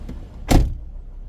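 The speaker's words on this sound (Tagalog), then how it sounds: "Open the window." A car's power window opens in one short motor whir lasting about a quarter second, close and fairly loud, with a faint click before it.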